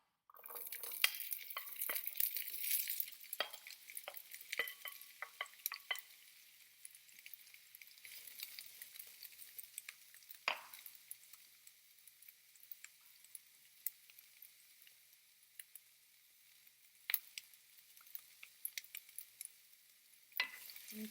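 A wooden spoon stirs potato hash in a hot Teflon pan, giving a steady close sizzle of frying with scraping and stirring rustles throughout, and no one speaking.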